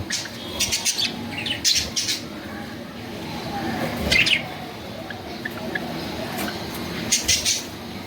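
Java sparrows chirping in short bursts of high, sharp tweets, with a few louder clusters over a low background hum.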